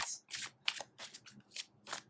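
Tarot cards being shuffled by hand during a pick-a-card reading, a series of crisp, papery riffling bursts repeating roughly every third of a second, close and alone with no talking.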